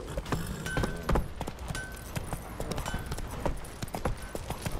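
Horse hooves clip-clop in a steady rhythm as a horse moves in The Witcher 3: Wild Hunt, close and moderately loud over in-game ambience.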